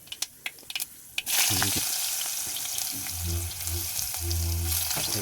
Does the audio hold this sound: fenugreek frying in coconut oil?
yes